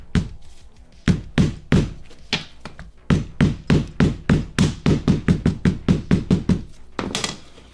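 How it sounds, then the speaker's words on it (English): Rapid repeated hammer blows on leather, steady rhythmic knocking in bursts with brief pauses, close and fairly loud. "Not a huge deal, I'll just hammer it."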